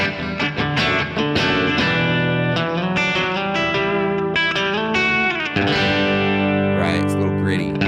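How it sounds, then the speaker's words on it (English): Electric guitar through a Matchless SC30 amp with reverb, gain set at the edge of breakup, playing loud, slightly gritty chords and lead runs with ringing sustained notes and a brief pause midway. "this is a matchless SC30. The only effects on here are reverb, and I have the amp's gain set a little bit just on the edge of breakup."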